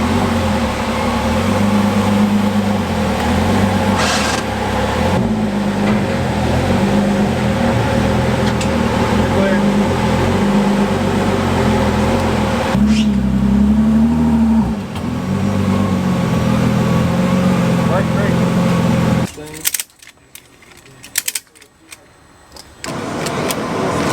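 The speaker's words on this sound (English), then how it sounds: "this dyno spinning it pretty hard" A 2018 Ford GT strapped to a dyno, engine running hard in fifth gear with a steady loud drone and shifting tone, then cutting out abruptly near the end into quieter, broken noise.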